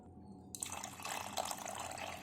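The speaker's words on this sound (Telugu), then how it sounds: "ఇప్పుడు 2 గ్లాసులు వాటర్ పోసుకుందాం" Two glasses of water poured into a cooking pot for a spinach-lentil dish, a soft steady splashing stream that starts abruptly and runs on, fairly quiet and close.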